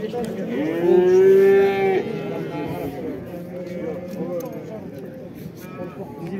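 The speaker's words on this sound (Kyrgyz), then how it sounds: "Туугандар, музоо чыныгында көп экен." A calf at Karakol livestock market gives one loud, drawn-out moo up close, and quieter lowing and market chatter carry on around it with people talking throughout.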